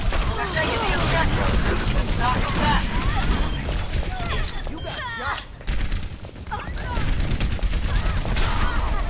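Gunfire from the Overwatch game, dense bursts of shots and mechanical clatter running through nearly the whole stretch, loud and busy, with a voice talking over the action.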